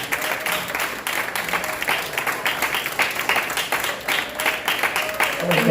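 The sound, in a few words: congregation applause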